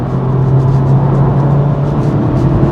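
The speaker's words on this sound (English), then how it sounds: "when you got the engine on the boil and the turbo spooled up" A 2017 Honda Civic Type R FK8 runs with its turbocharged engine on the boil, a loud steady drone heard from inside the car, with no speech.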